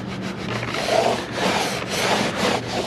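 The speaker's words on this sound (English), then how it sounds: "It's just a little bit smaller of a scrub brush, just to get the heavy stuff and in the nooks and crannies that you can't really get with a rag." Scrub brush and rag working over car interior weather stripping and door gasket, a steady close rubbing and scrubbing texture with uneven strokes running the whole time, no talking.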